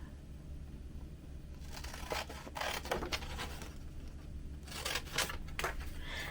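Paper flowers being cut out for a spring paper-weaving collage, heard as close, soft scissor snips and papery rasping that grow busier in the second half, with a steady low hum underneath.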